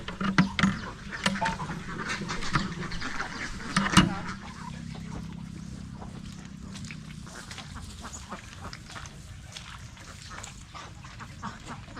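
Ducks raised on a farm quack in a busy cluster over the first few seconds, fairly close, then give way to a steady low outdoor hum with scattered faint calls.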